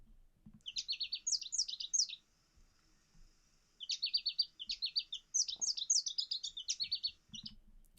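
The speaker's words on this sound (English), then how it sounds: "And then this is the song from that same bird." A common eastern woodland bird sings in bursts of rapid high chirping phrases, with a pause and then two more runs of song, fairly clear against a quiet background.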